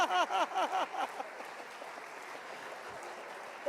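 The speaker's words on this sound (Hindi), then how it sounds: "ये प्रेसिडेंट्स देखो खुद ही के हाल पे ताली बजा रहे हैं." Rotary club presidents in a conference hall clapping for themselves, a burst of loud applause over the first second that quickly thins to scattered faint claps.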